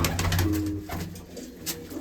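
A breeder's fighting pigeon gives a low, brief coo at close range against a noisy background.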